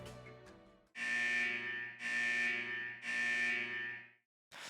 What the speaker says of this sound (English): Suddenly, the corridor alarm blared to life again.